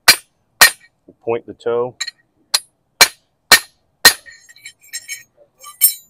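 Sharp metallic hammer strikes ring out on a farrier's anvil while a horseshoe is shaped, several loud isolated clanks spaced unevenly with a short spoken phrase between them.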